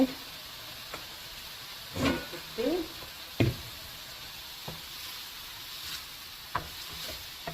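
Oyster mushrooms with turmeric and salt get stirred in a pan, bringing a low, steady sizzle and a few scraping stirs and spoon knocks, quiet and close.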